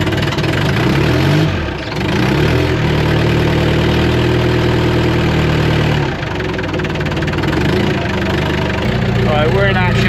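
A huge lorry's engine idles on a building site with a steady, loud, continuous low rumble that barely changes, and voices talk over it.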